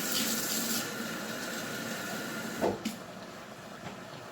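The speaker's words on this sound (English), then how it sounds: "Get me some water here." Tap water runs steadily into a container in a home kitchen while cooking, a continuous hiss with a couple of brief clunks partway through.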